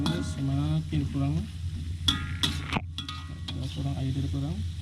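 Sliced coconut bubbles and sizzles in boiling sugar syrup in a pan, a steady crackling simmer with occasional scrapes of a stirring utensil, close up under intermittent talk.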